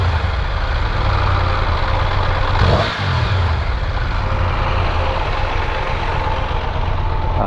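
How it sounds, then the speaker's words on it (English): A Triumph Tiger 1200 Rally Explorer motorcycle runs with a loud, close exhaust note, a steady deep engine drone with one brief throttle blip partway through. "exhaust note sounds like"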